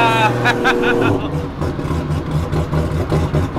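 A 2500 hp 2JZ-swapped Nissan Silvia S13 rumbles with a deep, steady engine drone and rhythmic low pulsing, with voices talking over it throughout.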